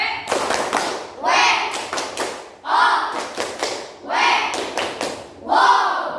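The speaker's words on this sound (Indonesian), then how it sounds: "Berikan tepuk WOW dulu. Tepuk WOW." A classroom group does the rhythmic "tepuk WOW" clap after a student group's performance: repeated bursts of claps and taps in a patterned beat, loud and close, with children's voices chanting between the bursts.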